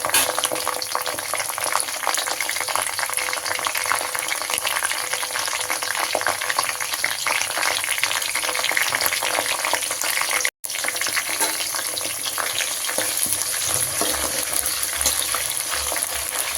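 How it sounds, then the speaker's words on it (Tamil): Green chilies and fennel seeds fry in hot oil in a pan, giving a steady, dense sizzle and crackle that holds at an even level throughout, with one very short drop near the middle. "எண்ணெய் ஊற்றி சோம்பு போட்டு சோம்பு நல்லா பொரிஞ்சதுக்கப்புறமேட்டு பச்சை மிளகா ஒரு 10 பச்சை மிளகா தாராளமாக நான் சேர்த்துருக்கேன்."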